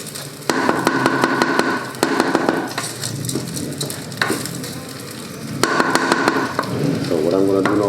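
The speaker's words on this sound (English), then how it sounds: "can hear the rice, the heat from the pot, Nice sound" Basmati rice frying and being stirred in a hot pot, with a loud steady sizzle and repeated scraping stirs, and a voice speaking over parts of it.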